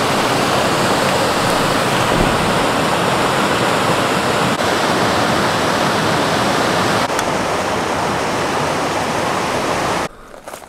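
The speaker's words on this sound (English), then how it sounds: "This is Haypress Creek." Haypress Creek rushing along a trail in the Sierra near Sierra City, a loud, steady broadband roar of flowing water heard up close for about ten seconds before cutting off abruptly.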